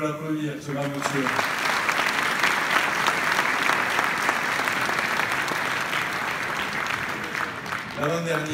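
Sustained applause from an audience at a public New Year's greetings ceremony in Vias, France, a dense steady wash of clapping lasting several seconds, with a voice speaking briefly at the start and again at the end.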